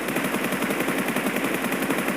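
Rapid, continuous automatic gunfire sprays in a steady, loud burst with no pauses, from PUBG Mobile played on a realme X7 Pro phone.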